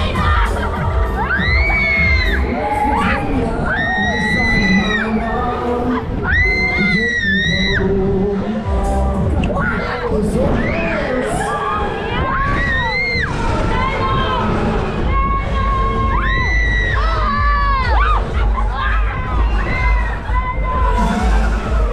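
Riders on the Nightstyle fairground ride run by Armbrecht at Lukasmarkt Mayen cheer, whoop and shout in a loud, dense crowd over the ride's thumping music, with excited voices rising and falling throughout.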